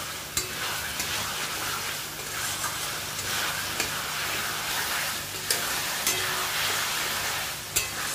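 Spice paste for bottle gourd and prawn curry is stir-fried in a pan, giving a continuous close sizzle with regular scraping and tapping of a spatula, steady and moderately loud with no voices.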